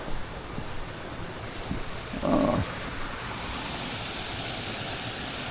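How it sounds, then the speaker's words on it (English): Steady broadband rush of running water from a small waterfall in the grounds of Lauriston Castle, constant throughout with a brief spoken exclamation near the middle. "Oh, it's got a wee waterfall."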